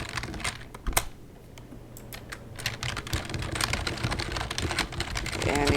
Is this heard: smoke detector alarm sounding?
no